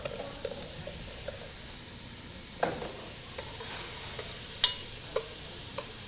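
Mirepoix and minced garlic sizzle in a pan with a faint, steady frying hiss, broken by a few sharp utensil clicks and scrapes against the pan.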